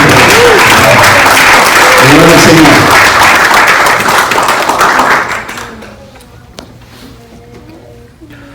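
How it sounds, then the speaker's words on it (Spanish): Loud applause fills a church Father's Day service, a congregation clapping in a dense burst for about five seconds before it fades off, followed by a short spoken phrase. "Es un aplauso a todos."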